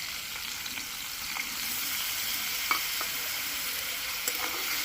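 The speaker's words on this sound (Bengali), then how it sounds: "এবার সামান্য একটু জল দিয়ে কষাতে হবে" Papad curry masala cooking in a pan with a splash of water, giving a steady close sizzle and simmering hiss throughout, with a few faint clinks of a stirring spoon and no talking.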